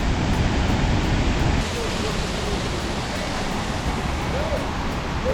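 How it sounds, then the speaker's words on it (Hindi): Small mountain waterfall on the Kheerganga trek, a steady broadband rush of falling water, close and fairly loud, continuous with no breaks and no talking. "और थोड़ा और नीचे छोटा सा वाटरफॉल भी बन रहा है"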